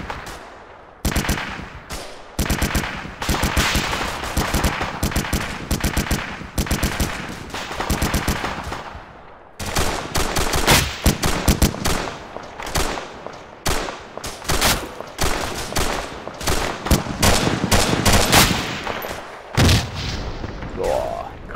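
Rapid bursts of automatic gunfire crack repeatedly, with heavy booming grenade impacts mixed in, a dense loud barrage of combat in the video game ArmA 2 with a short pause midway.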